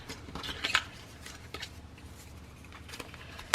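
Scissors snipping paper to make envelopes, a few crisp close cuts and rustles near the start, then sparse snips and paper handling at a moderate level.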